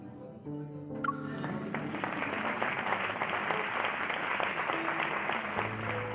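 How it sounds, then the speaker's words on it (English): Steady applause from a crowd filling a banquet hall in a video game, a dense clapping wash that swells in after a brief musical moment and holds evenly throughout. "Applause fills the hall"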